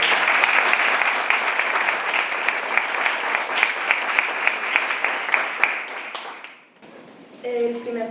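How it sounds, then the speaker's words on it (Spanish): Audience applause at an open-air poetry reading in Albolote, Granada, sustained and fairly loud for several seconds before fading. A voice begins speaking near the end. "Venga, un aplauso enorme."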